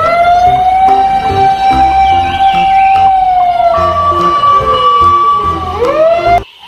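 A loud, steady electronic siren wail holds one pitch, then dips and sweeps back up, with a toy's tinny quality and faint clicking underneath.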